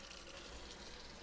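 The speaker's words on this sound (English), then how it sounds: "We'll put some water in there to keep the weight down." Water from a tap runs steadily into a pot of tamales, a quiet, continuous pouring hiss with no talk.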